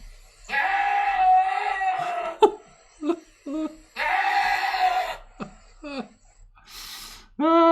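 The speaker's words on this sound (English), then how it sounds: "screaming goat" A screaming goat lets out loud, long, human-like bleating screams, two drawn-out cries with shorter choppy yells between and a sharp final scream, close and clear.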